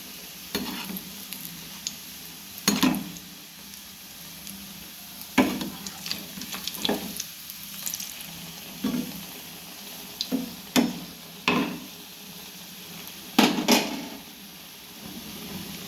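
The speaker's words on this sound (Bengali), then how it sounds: "এই যে আমার মথুরা কেক ভাজা হচ্ছে এখানে" Mathura cakes frying one by one in hot oil in a wok, with a steady soft sizzle and intermittent loud scraping stirs of a utensil against the pan, no voices.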